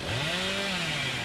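A Hillbilly's chainsaw revs in Dead by Daylight, a loud, steady motor whine that rises and then falls in pitch over about a second, heard alone.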